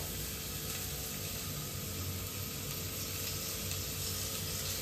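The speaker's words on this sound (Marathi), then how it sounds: "तेल टाकून घेते, कांदा टाकलाय" Onion frying in hot oil for a Bhogi mixed-vegetable dish produces a dense, continuous close sizzle that holds at a steady level with no pauses and no voices.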